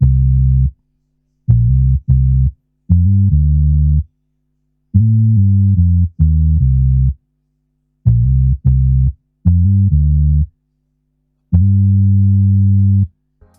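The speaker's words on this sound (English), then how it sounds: "I added this bass that I made from scratch in Serum" A synth bass built from scratch in the Serum plugin plays short, punchy low notes in clustered bursts separated by silence, each tone clean and sustained briefly before cutting off.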